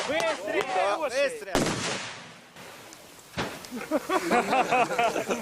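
Two sharp, heavy blasts from an SPG anti-tank grenade launcher firing, each followed by a rumbling tail, with excited voices shouting between them.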